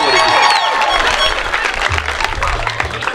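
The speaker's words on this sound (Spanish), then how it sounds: "toca un fuerte aplauso para Elijah Meulens." Loud applause from a crowd at a gathering, dense clapping with some cheering and voices mixed in, steady throughout the short stretch.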